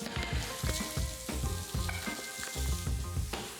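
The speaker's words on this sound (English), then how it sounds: "Going to whisk that together." A sauce of sambal, garlic, mayonnaise and ketchup is whisked briskly in a bowl, giving a fast, rhythmic series of wet clicking strokes.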